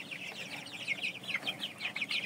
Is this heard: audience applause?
no